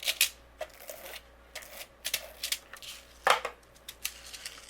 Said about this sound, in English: I'm going to add my carrot just using my tape runner